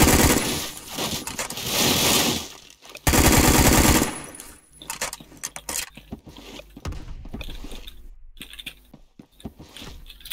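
An AS5 rifle fires in a first-person shooter, long loud bursts of rapid automatic shots, then a string of shorter choppy volleys and single cracks with brief gaps between them.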